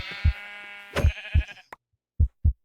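Several short, nasal sheep bleats from a video game (Cobblemon) come one after another, clear and close, with brief gaps of silence between them.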